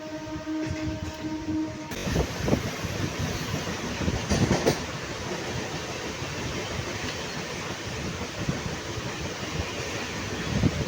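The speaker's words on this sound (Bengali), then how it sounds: "মোরগ্রাম ছেড়ে দিল ট্রেন।" A MEMU train leaving Morgram station rumbles and clatters steadily along the tracks, loud and close, with rhythmic wheel clacks and a hiss of wind; no talking.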